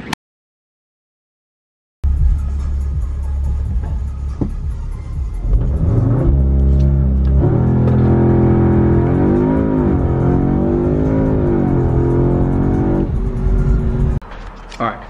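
A 2020s Audi S3 8Y drives along with a loud in-cabin engine drone that rises and falls through gear changes as it accelerates, with rumbling road noise; a voice talks briefly.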